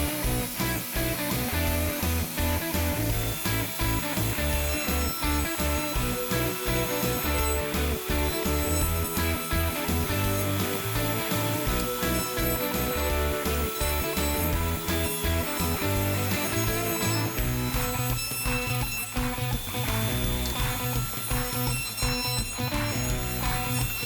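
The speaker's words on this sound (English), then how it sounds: "it is okay to just sort of rough cut that with a jigsaw" Jigsaw rough cutting a wooden chopping board, a loud continuous buzzing rattle of the reciprocating blade running steadily through the wood at close range, with little change in pitch throughout.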